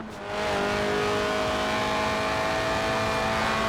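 A Lotus Elise, a 1990s mid-engine two-seat rear-wheel-drive roadster in Forza Horizon 4, drones at steady high revs with a strong harmonic engine tone, rising in quickly and holding loud and close throughout.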